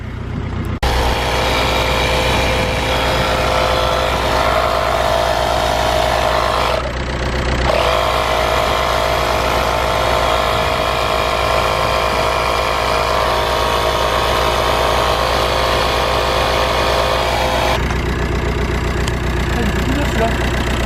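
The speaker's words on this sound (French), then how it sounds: "Le moteur va s'emballer." Cupra TDI diesel engine, just brought out after two years in storage, revving loudly and continuously with a brief dip in the middle, while people talk over it.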